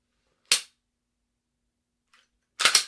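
Two sharp pistol shots fired at targets crack loud and close about two seconds apart; the second is a quick double report, with silence around them.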